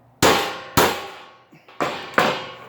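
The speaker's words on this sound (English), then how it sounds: "Once again, just punching our pilot hole there." A punch is hammered into sheet metal to start a pilot hole for an ultralight packable tent stove, four sharp metallic strikes with ringing decay, the third lighter and preceded by a small tap.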